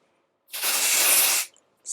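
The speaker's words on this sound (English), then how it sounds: "I'll just spray this inside" A spray bottle, used as dry shampoo on a sectioned partition of hair, lets out one close, bright hiss of about a second, followed by the start of a second spray.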